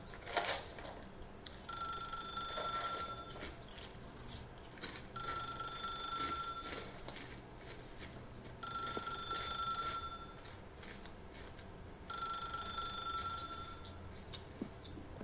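A telephone rings in The Stanley Parable video game, in four evenly spaced ringing bursts with short pauses between them, heard alone without speech.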